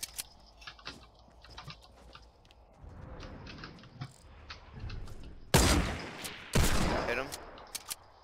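Gunfire in a Fortnite squad match: scattered sharp shots crackle throughout, then two loud, close bursts of rapid fire land about a second apart near the end.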